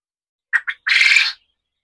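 Quail on a quail farm give a short call: two quick chirps and then a longer, buzzy trill, close and clear against silence.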